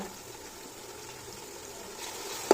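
Red chillies crackle and sizzle in hot oil, a faint steady frying hiss with soft pops that swells slightly toward the end.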